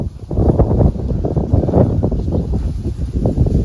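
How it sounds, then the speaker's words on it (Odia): Strong wind blowing across open farm fields during a crop harvest, a loud continuous roar buffeting the microphone with gusty surges and low rumble, close and unbroken. "ଏ ଭାଇ କେତେ ଜୋର ପବନ ଦେଲାଣି ଦେଖ"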